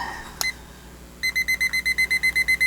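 A kitchen timer is set for about 45 minutes: one short beep, a pause, then a quick run of about a dozen evenly spaced electronic beeps, loud and close, with no talk.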